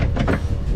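Door on a Longreach 58 Expedition power catamaran being shut and locked, a quick close thud followed by a short mechanical latch click, near and loud.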